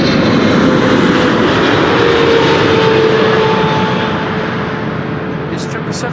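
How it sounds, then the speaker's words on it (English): A Boeing 777 freighter arriving at Amsterdam Schiphol roars loudly and steadily overhead, its jet engine noise easing slightly as it passes, with no talking. "This 777 freighter arriving from Kirov."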